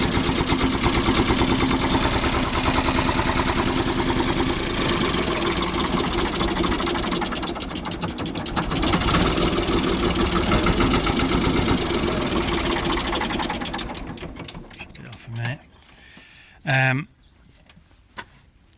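A Ford 4600 tractor engine with a fault that stops it revving up runs at a steady, loud idle for about fourteen seconds, then cuts off, leaving quiet with a couple of brief louder bursts.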